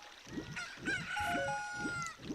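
A rooster crows at morning in a video game, a clear rising and falling cock-a-doodle-doo heard alone over a steady rhythmic background loop.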